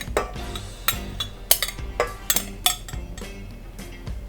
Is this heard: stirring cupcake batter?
yes